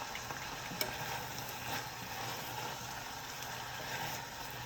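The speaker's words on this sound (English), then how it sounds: "You see here, it's sizzling." Faint, steady crackling sizzle of food frying in a pan, with no talking.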